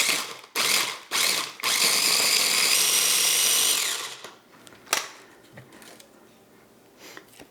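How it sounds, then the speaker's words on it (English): A food processor grinds turmeric into a paste for Indonesian fried chicken. It opens with two short bursts, then runs in one loud, steady whir for about two and a half seconds, stops, and a few faint clicks and knocks follow. "the last thing I'm adding to my food processor is the turmeric. Put the lid on. And we're going to grind this."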